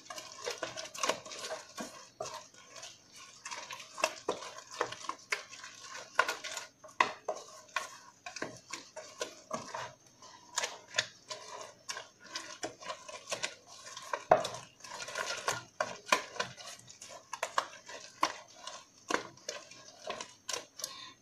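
A metal spoon steadily stirs and clinks through a bowl of potatoes, eggs and herbs, giving a long run of quick, close, bright scrapes and taps with a busy, uneven rhythm.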